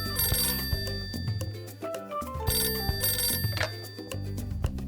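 A telephone rings in a playful kids' show set, bright repeated electronic trill bursts in two or three clusters over a steady musical backing, loud and close, with no one speaking.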